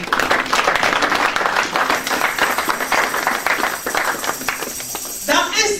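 A church congregation bursts into sustained applause after a sermon reading, dense continuous clapping filling the room, with talk over it.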